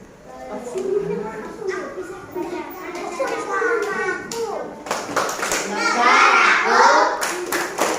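Children clap the Tepuk Negaraku clap song together, rhythmic hand claps running steadily under young voices chanting and talking throughout.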